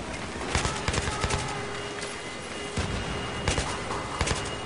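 Sharp gunshots from the video game Battlefield 3 ring out in quick bursts, clusters of rapid cracks separated by short pauses over a low steady background.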